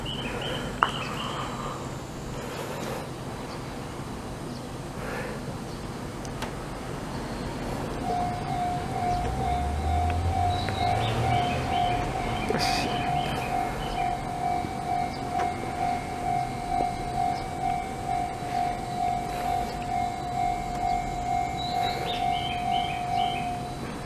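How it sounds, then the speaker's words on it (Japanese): A Class 211-3000 electric train approaches and passes close by platform 2 of Ino Station on the Joetsu Line, a steady whine and rhythmic wheel clatter building up and continuing, with a sharp tonal chime above. "まもなく通過列車が来ます。"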